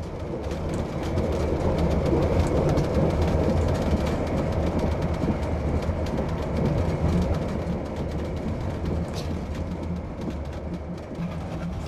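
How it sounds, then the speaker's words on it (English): A coal train passes close by, heard from aboard a moving passenger train in the New Zealand Alps, with a steady, loud rumble and rapid rhythmic clatter of wheels on rails that continues throughout. "We'll be crossing a coal train here in the next few minutes."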